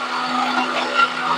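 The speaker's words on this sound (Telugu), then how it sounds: "ఈ యొక్క మిక్సీలో వీటితో పాటు మిక్సీ పట్టుకుంటున్నాను" A mixer grinder whirs loudly and steadily, blending ingredients with curd for a mealmaker curry, a continuous motor drone with a strong hum, close and uninterrupted for the whole short stretch.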